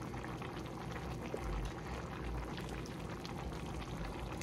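Juice is poured steadily onto baby lima beans and smoked turkey cooking in a pot, giving a soft continuous liquid pour over a low simmering bubble, faint and without talk.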